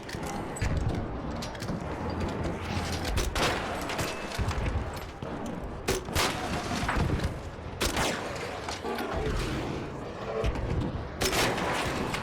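Repeated gunshots in Arc Raiders, a dense run of shots over a busy, loud game backdrop, with bursts recurring across the stretch.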